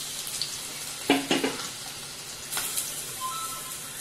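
Cumin seeds and potato pieces go into hot oil for an aloo matar bhaji, with brief sizzling bursts and light crackle over a faint kitchen background, close up and with no talk.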